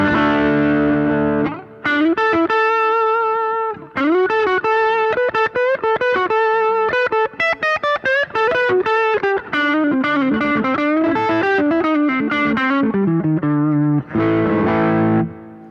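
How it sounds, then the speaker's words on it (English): Electric guitar played through a JHS Morning Glory overdrive pedal gives a loud, steady crunch: strummed chords and riffs with short breaks between phrases, ringing on at the end. "So it's a great kind of crunch sound,"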